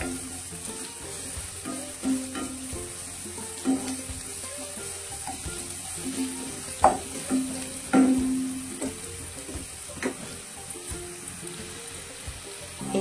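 Onion frying in a pan for shavige uppittu: a soft, steady sizzle with occasional louder scrapes and clicks of stirring, close but fairly quiet.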